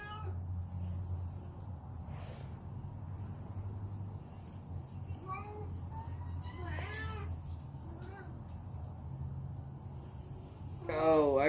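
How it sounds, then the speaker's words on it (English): Several cat meows come from near a door, fairly faint and scattered over a steady low hum, with a louder yowl at the end. "I just gotta let a cat in the door."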